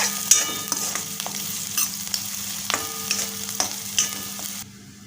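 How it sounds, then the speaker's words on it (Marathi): Onion roasting in a pan for Maharashtrian telwang gives a steady close sizzle, broken by sharp spatula scrapes and clicks as it is stirred every second or so, then fades near the end. "कांदा भाजून घेऊया."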